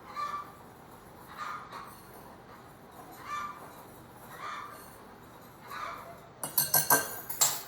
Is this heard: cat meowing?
no